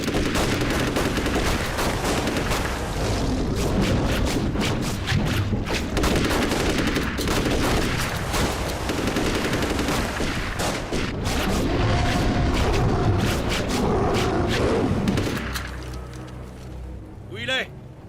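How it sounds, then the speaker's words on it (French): Several guns fire at a shark in a film action scene: dense, sustained bursts of loud gunfire with booms, mixed with shouting voices, before dropping off sharply near the end. "quand je dis feu, on fait feu, ok?"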